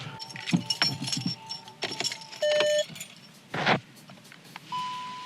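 Car keys jangle and clink in the hand during a headlight install on a Mk7 GTI, with loud metallic bursts and a couple of short electronic tones from the car, and no one speaking.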